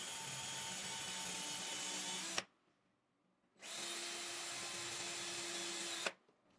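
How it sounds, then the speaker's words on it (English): Power drill boring pilot holes for a wall-mounted handrail bracket at its highest speed, heard close up as two steady, loud whining bursts separated by a short silent pause, with no talking. "let's loosen it off and drill the pilot holes"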